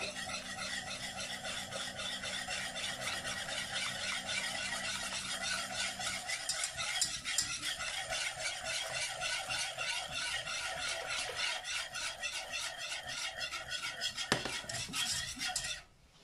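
A utensil scrapes and clinks rapidly and rhythmically against a pot of hot milk, a steady close stirring that continues without pause for about sixteen seconds before stopping abruptly, with a low hum present early on.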